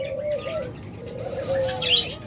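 Red-eyed dove, one of a bred pure-bloodline pair kept as a pet bird, gives a close, clear series of soft rhythmic coos with a few brief chirps and wing flutters alongside.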